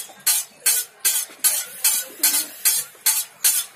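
Martabak frying in hot oil at a street stall in Palembang, heard as a series of about nine regular sizzling bursts roughly every half second, close and fairly loud, with no talking.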